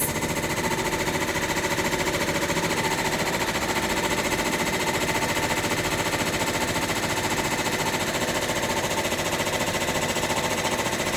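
A 10-needle embroidery machine stitches a green grass placement line on fabric, producing a loud, rapid, unbroken mechanical rattle of needle strikes that stays steady throughout.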